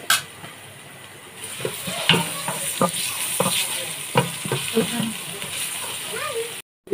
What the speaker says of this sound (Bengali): আমি এখন পরিমাণ মতো আদা বাটা, রসুন বাটা দিয়ে দিলাম।